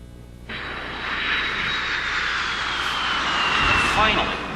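Airplane engine roar plays back from a recording, a broad steady whoosh starting abruptly and swelling slightly, with a thin whine above and faint talk beneath.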